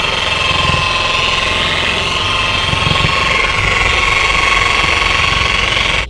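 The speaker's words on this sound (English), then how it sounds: "Start off with a low setting, fire up, and then we're gonna spread the chemical out first on a low setting" An electric polisher on a low setting, spreading compound over oxidized boat gelcoat. It gives a steady, close motor whine with a buzzing grind beneath it, and the whine cuts off abruptly at the very end.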